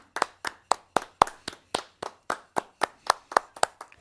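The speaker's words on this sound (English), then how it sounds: "Round of applause." A single pair of hands claps about fifteen times in an even, brisk rhythm, each clap sharp and close, with no crowd or voices around it.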